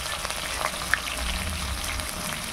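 Garlic, cumin, black cumin and green chillies fry in hot oil in a pan for a fish chorchori, giving a steady, close crackling sizzle that runs throughout with no talking.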